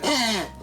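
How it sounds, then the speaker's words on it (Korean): A dog, one of many rescued dogs, lets out a single short, harsh cough, close and fairly loud, fading quickly into quiet. "너 왜 자꾸 기침해?"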